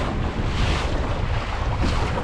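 Wind blows strongly across the open water of Lake Bala, buffeting the microphone aboard a Mirror dinghy sailing beam on to the wind in big waves, a loud continuous roar with no pauses.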